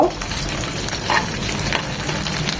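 Pieces of chicken frying in hot oil for chicken fried rice, a steady close sizzle and crackle throughout, with occasional scrapes as the pieces are turned, no talking.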